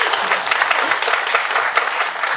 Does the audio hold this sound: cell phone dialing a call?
no